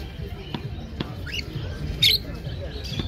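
A sharp cockatiel squawk rings out once near the middle, over a low background murmur with faint chirps and taps at a bird market.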